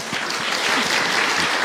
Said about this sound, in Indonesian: tepuk tangan dong untuk Ahilman